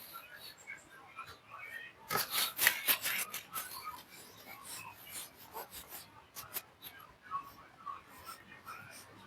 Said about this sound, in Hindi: इधर लिख देते हैं।